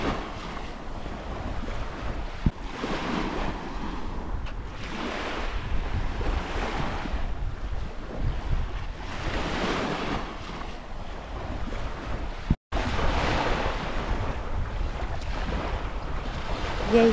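Waves break steadily on an English beach while strong wind buffets the microphone in a continuous, loud roar, interrupted once by a brief dropout.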